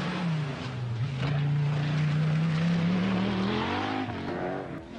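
Malcolm Wilson's private Audi Quattro rally car racing on a British rally stage, its engine droning loudly and rising in pitch as it accelerates past, then fading slightly.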